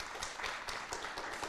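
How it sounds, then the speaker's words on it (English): Audience applause at a Washington attorney general primary candidate forum, a steady wash of many hands clapping at moderate level through the whole moment, with no voices over it. "Let's give a round of applause."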